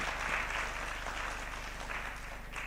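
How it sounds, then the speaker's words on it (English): A graduation crowd claps throughout, a broad, steady wash of applause from many people that holds at an even level for the whole stretch. "Clap for me"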